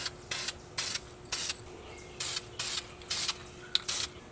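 Rust Tough enamel sprayed from a can onto trimmed metal on a Camaro brake job, seven short hissing bursts of about a quarter second each, spaced evenly apart, close and fairly quiet, with no talking.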